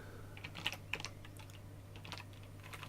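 Quiet tapping on a computer keyboard, a loose run of light keystrokes at an uneven pace with a couple of slightly sharper clicks, close and soft over a low steady electrical hum.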